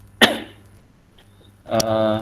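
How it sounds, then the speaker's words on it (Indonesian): A single sharp cough bursts out near the microphone during an Indonesian lecture session, followed after a pause by the speaker's voice resuming. "Maaf, saya batuk."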